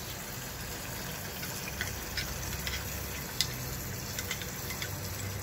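Cashew and almond paste sizzles in a pan of mutton masala, a low, continuous frying hiss with faint scattered crackles and pops, alone without speech.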